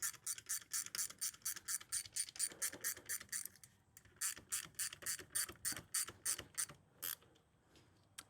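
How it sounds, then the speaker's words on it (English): Ratchet wrench tightening bolts on a polished stainless steel exhaust, a fast run of crisp clicking strokes in two bursts with a short pause between, close and fairly quiet with no talk. "Get everything tightened up."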